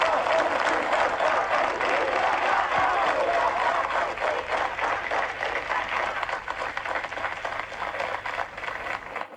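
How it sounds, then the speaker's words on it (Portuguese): A large crowd applauds the Pope in a long, steady, fairly loud round of clapping that gradually thins and softens toward the end. "Foi bom os aplausos, né?"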